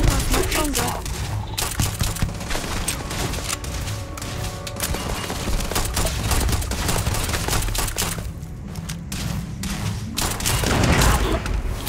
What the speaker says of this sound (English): Who the hell is firing rockets in here, man?